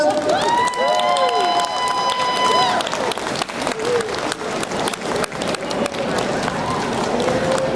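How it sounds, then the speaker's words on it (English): Large convention audience applauding and cheering for guests invited onto the stage at an anime fan panel, dense sustained clapping that fills the clip, with an amplified host voice speaking over the start. "So I'd like you to give a big round of applause to Mr. Toby Proctor and Jill Frappier."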